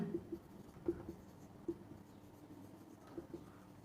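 Chalk or marker scratches on a board as a coordinate answer is written out in a class 10 maths lesson, giving faint, close, irregular taps and strokes in a quiet room with no talking.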